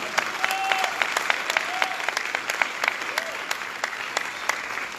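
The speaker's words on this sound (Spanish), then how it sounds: "Dele una ofrenda de palmas al Rey." A church congregation claps together in steady, rhythmic applause, sharp repeated claps with a few voices faintly calling out underneath.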